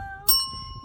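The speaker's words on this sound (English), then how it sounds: "we get to ring our bell." A small bell is struck once, giving a bright ding that rings on and slowly fades over a quiet background.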